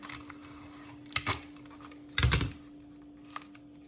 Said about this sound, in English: I'm just gonna cut that off